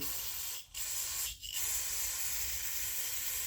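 Aerosol cleaner hisses steadily over the carburetor body of an Echo 650EVL chainsaw as old fuel residue is flushed out, a close, continuous spray broken by two brief pauses.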